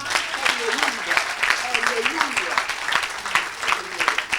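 A church congregation claps and cheers in praise during a sermon, dense steady applause mixed with crowd voices and a voice speaking over it, loud and close throughout.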